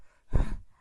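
A single breathy exhale imitating panting after running, a short burst of heavy breath, close and alone without speech.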